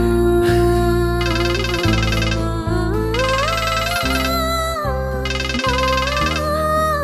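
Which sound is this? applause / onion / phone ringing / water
phone ringing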